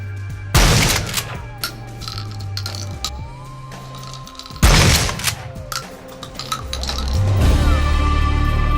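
Metal shell casings from video game gunfire clink and scatter across a 3D environment, arriving in sharp bursts with rattling tails between quieter stretches, layered over a low mechanical hum.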